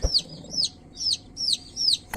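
Newly hatched day-old turkey chicks beside their hen give about five evenly spaced high peeps, each a short rising-and-falling chirp, fairly close but soft, with quiet pauses between them.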